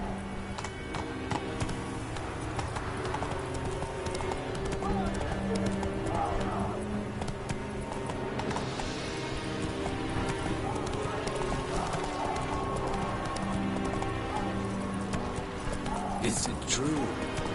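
Roach, a horse in The Witcher game, gallops with a continuous patter of hooves under dense game sound and music, while voices speak intermittently.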